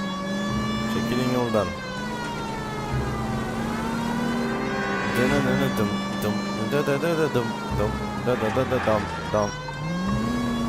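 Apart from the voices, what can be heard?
police car siren in L.A. Noire video game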